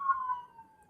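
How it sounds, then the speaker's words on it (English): An ambulance siren wails as the vehicle passes, a single fairly loud tone that slides gradually lower as it moves away, with no talk over it. "I was letting the ambulance go by"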